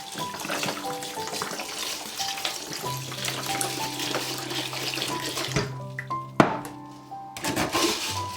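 Rice, beans and grains for a congee are rinsed under a running tap, with a steady stream of water splashing into the bowl, some sloshing and a brief clunk near the end, close and continuous.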